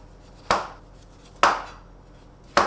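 Three sharp, separate thuds of a kitchen knife chopping down through a fibrous aubergine stalk onto a board, each cut a quick close strike spaced about a second apart, alone without speech.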